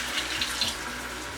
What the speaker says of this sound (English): now I'm gonna add in a few cups of water